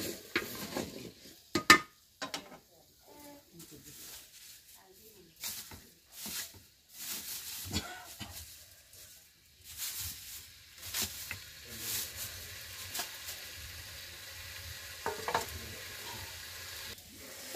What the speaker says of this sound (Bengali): পেঁয়াজ কাঁচামরিচ এখন ভালো করে কষানো হবে।